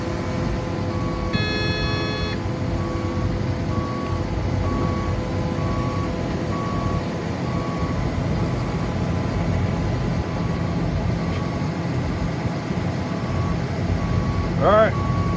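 A road paver's engine runs at a steady, loud, droning idle with a constant tonal hum. A short burst of electronic beeping sounds early on, and a brief rising whine comes near the end.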